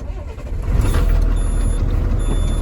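Volvo cabover truck's diesel engine starting during a safety start at a pre-trip inspection: a low rumble swells after a moment into a steady, loud idle, with thin high warning tones sounding above it.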